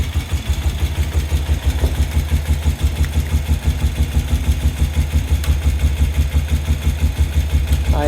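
A 1972 BMW R75/5 airhead motorcycle engine idles steadily after a cold start on its chokes, a loud, even low-pitched thrum running alone and close throughout.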